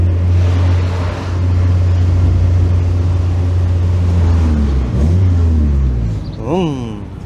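An unmuffled Mazda Miata engine rumbles in a loud, steady low drone, dips briefly, then rises again before a higher whining sweep near the end.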